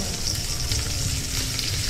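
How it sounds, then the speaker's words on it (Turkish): Venison roast frying in a Turkish survival video game, a steady, close sizzle with crackling fat throughout and no voices. "Tamam, geyik eti kızartması pişir."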